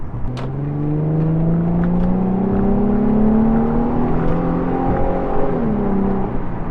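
Nissan 350Z Cabriolet engine revving hard while driving, a loud sustained rising howl that climbs in pitch, briefly eases around the gear changes, and screams on again close up with no talk.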